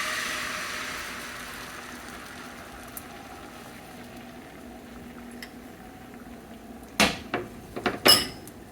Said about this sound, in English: I'm going to add some egg mixture